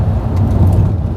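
A V8 sports car's engine and exhaust give a brief, loud, close-up low rumble that stays steady and throaty, with no voices over it.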